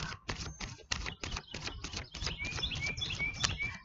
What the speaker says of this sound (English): you can hear all the birds chirping and everything too